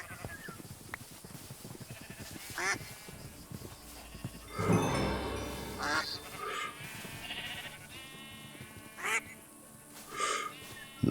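Ducks quack in the Homestead in the Wood video game. A few short calls come in separate bursts over a busy farmyard background, with a brief louder rustle partway through. Nobody speaks.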